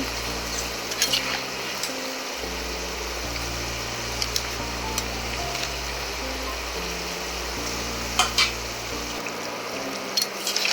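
Nimki pastries frying in hot oil give a steady, soft bubbling sizzle throughout, with faint clinks of a utensil and a low hum underneath and no talking.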